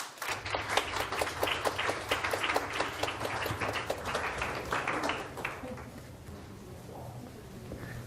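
An audience applauds to welcome Dr. Barry Aw onstage, dense steady clapping for about five seconds that then thins and fades away.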